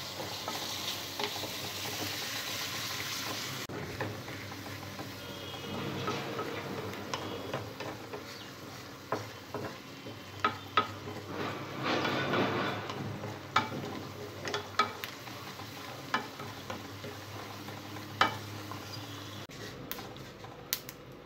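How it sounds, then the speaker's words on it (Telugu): Fenugreek leaves (methi) fry in a pan with a steady, moderate sizzle, overlaid by frequent light ticks and scrapes of a spatula stirring them; no voices are heard. "ఈ మెంతి కూరని పచ్చివాసన పోయే వరకు బాగా ఫ్రై చేసుకోవాలి"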